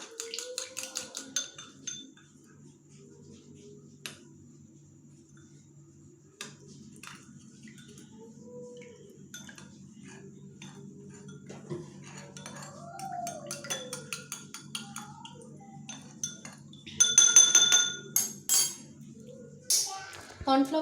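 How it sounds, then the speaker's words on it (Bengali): A utensil stirs cornflour into water in a bowl and makes soft, sparse clinks and scrapes against the bowl. A voice talks over much of it, and a cluster of sharper metallic clinks comes near the end. "বাটিতে আমি একটু জল দিয়ে দিচ্ছি, দিয়ে আমি কর্নফ্লাওয়ারটাকে গুলে নেব।"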